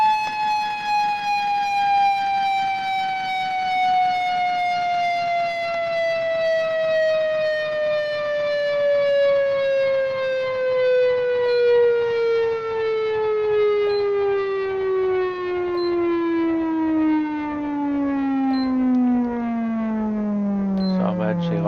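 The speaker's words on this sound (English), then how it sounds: "after a set amount of time, the manual siren ends" A fire truck's manual mechanical siren wails in a Los Santos firefighting game, loud and sustained, its pitch slowly winding down over about twenty seconds as it runs out.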